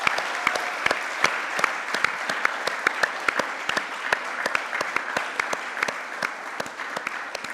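A church congregation at an in-person service applauds warmly, steady crowd clapping with sharp individual claps standing out, filling the room with no talk over it.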